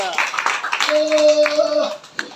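Church congregation clapping hands in praise to God, a burst of rhythmic applause mixed with voices and a sustained sung or shouted tone, fairly close and lively.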